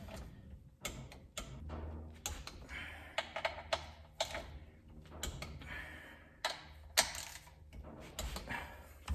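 A torque wrench tightening bolts on a Briggs and Stratton small engine, producing quiet, irregular close clicks and ticks in short bursts with pauses between, faint and alone.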